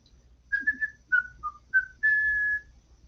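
A person whistles a bouncy tune while sketching a Green Lantern drawing, several short rising and falling notes ending on one long held tone, close and clear over a quiet background.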